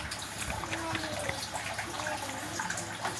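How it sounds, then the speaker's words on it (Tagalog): Leftover coconut milk pours and trickles into a pot of simmering chicken curry with celery, a steady wet splashing with no talk over it. "Dagdag na natin yung natirang gata hanggang sa medyo magtuyo, kumonti yung tubig niya."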